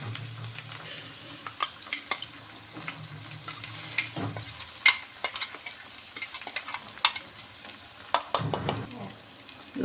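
Chicken fries in a pan with browned onion and ginger-garlic paste, giving a steady low sizzle broken by scattered scraping and clinking from stirring.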